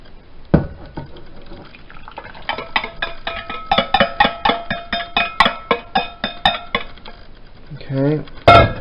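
Ingredients for a lemon pavlova filling go into a saucepan in a stretch of irregular clinks, taps and splashy pouring sounds, with a fast rattling clatter near the end.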